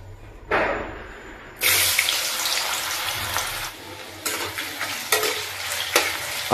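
Potatoes dropped into hot oil in a pan for egg curry, bursts of loud sizzling that flare up and ease off with stirring scrapes between them, close and uneven, no talking.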